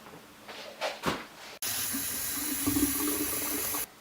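Hot water is poured over dried ingredients to rehydrate them for okra stew; a few soft clatters come first, then a sudden steady rushing pour runs close for about two seconds and stops abruptly.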